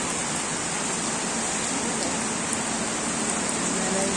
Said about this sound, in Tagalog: Yan, umulan na.